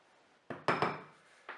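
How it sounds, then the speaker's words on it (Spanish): Chocolate waffle dry ingredients, including lumpy cocoa and salt, being stirred in a bowl: a few brief clinks and scrapes of a utensil against the bowl in otherwise quiet surroundings, with no talking. "Voy a terminar de mezclar"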